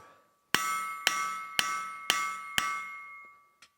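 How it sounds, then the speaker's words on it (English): Hammer forging an unusually soft metal on an anvil, five loud ringing strikes spaced about half a second apart, each leaving a long metallic ring, then a fainter final tap. "I don't know how far I can forge it"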